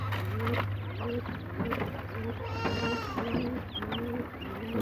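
Farmed quail kept for eggs and meat call in a pen in Chandpur, Matlab Dakshin, a chorus of repeated short chirping and bleat-like calls over a constant low hum.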